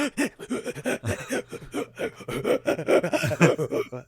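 A voice imitates Macho Man's sharp breaths in, rapid gasping inhales in quick succession, close and loud, mixed with breathy chuckles and huffs.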